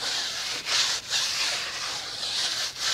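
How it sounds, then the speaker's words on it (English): A brush scrubs a tire during wheel cleaning, producing continuous close, hissing bristle strokes with slight rhythmic surges and no talk. "I'll just use this brush and just scrub around just like that"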